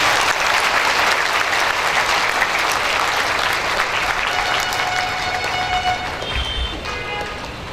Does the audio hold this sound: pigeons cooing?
no